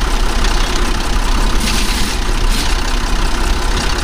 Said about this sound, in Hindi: ये अभी गाड़ी स्टार्ट हो चुकी है।